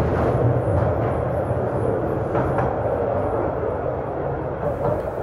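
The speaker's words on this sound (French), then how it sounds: "le premier train roule sur les rails" A mine train rolls along rails deep in the Bex salt mines, a steady loud rumble with rattling and faint clicks, sustained and close with no talking.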